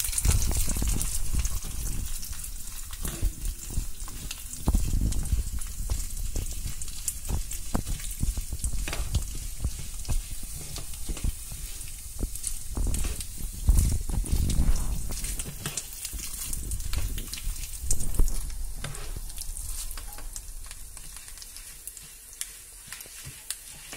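Chana dal frying in hot oil for tamarind rice gives a steady, close sizzle with crackling and occasional stirring bursts, continuing throughout with no voices.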